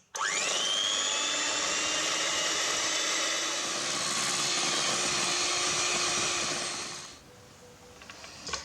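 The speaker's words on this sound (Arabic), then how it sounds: "اول حاجه غادي نبدا الكريمه نطلعها" Electric mixer whipping chilled cream for a cake, a loud continuous whirring motor whine held steady for several seconds close up, then cutting off and leaving faint handling sounds.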